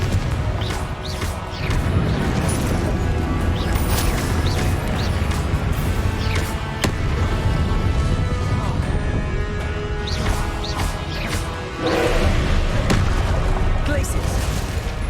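Fire spell blasts from the Hogwarts Legacy video game, repeated booming impacts and crackling bursts mixed with other spell effects in a dense, loud battle soundscape, with a voice calling out spell names over it.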